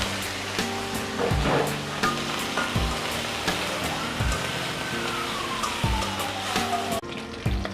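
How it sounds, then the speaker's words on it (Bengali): Shrimp sizzling and frying in a hot pan while cooking taro root, a steady loud crackle with clattering stirring knocks and a faint siren-like tone sweeping through the background. "চিংড়ি মাছ রেখেছিলাম, এই চিংড়ি মাছটা দিয়ে দিব।"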